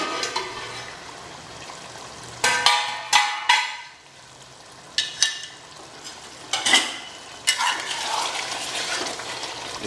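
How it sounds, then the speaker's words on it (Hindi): Mughlai chicken curry masala is stirred in a pan, with repeated loud spoon scrapes and clanks coming in irregular bursts over a low sizzle, near and distinct, without any talking. "इसे बार बार हिलाना पड़ता है, नहीं तो मसाले लगने का डर रहता है"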